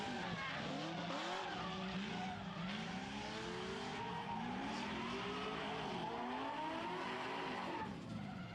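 Drift cars at a motorsport competition skid around the track, tires squealing in long wavering howls over loud, continuous engine roar. A dense, sustained wall of sound with no pauses.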